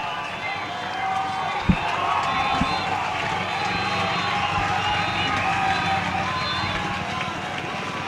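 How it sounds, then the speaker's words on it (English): At a 2008 speedway meeting between Birmingham and Sheffield at Perry Barr, the Brummies crowd roars loudly and continuously from the stands, with a commentator's voice running over the cheering. "Rarely have the Brummies crowd been so vocal since the reopening of Perry Barr."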